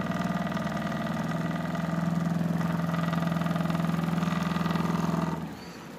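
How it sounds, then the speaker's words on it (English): A homemade brushless DC motor spins steadily on its own motor controller, giving a continuous even hum with a strong low tone that holds for about five seconds before cutting out. "the motor is running"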